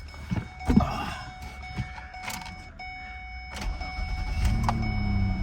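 Ford Escape with a manual transmission, seen at an auction, starts up from inside the cabin: a few clicks and thunks, then the engine catches and settles into a steady, fairly close idle with no talking.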